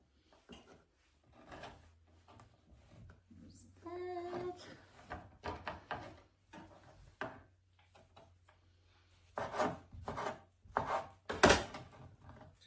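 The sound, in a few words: chopping baked country ham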